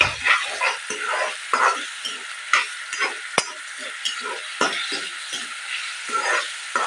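Ivy gourd frying with green chili and salt in a pan, a steady loud sizzle broken by repeated scraping stirs of a spatula, close up with no talking.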